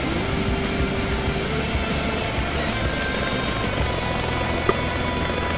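A helicopter in Flight Simulator X on approach to Songshan airport's helicopter landing point, a steady droning rotor and engine hum throughout with a brief click near the end.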